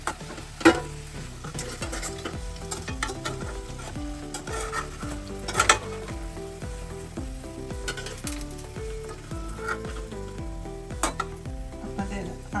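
Besan-battered potato slices sizzle steadily in hot oil over a medium flame, with repeated stirring and scraping of a utensil against the pan and occasional metallic clinks, close and alone.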